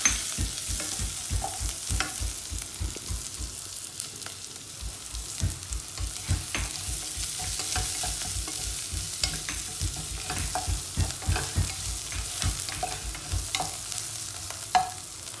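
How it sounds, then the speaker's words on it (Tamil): Chopped onions and green chilies fry in a pan with a steady sizzle, over a fast, regular scraping of a spoon stirring them throughout, close and moderately loud. "வெங்காயம் பதங்க விட்டு பச்சை மிளகாயையும் போடவும்"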